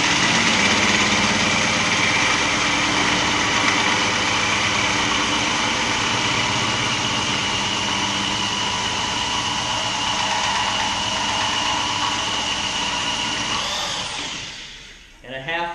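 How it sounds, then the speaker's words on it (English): A 1/2-inch variable speed drill spins a hole saw notcher through tubing for a Toyota 4Runner front bumper, a steady loud whirring drone that holds for about fourteen seconds before winding down at the end. "a 1/2-inch drill like this, that's variable speed, is necessary"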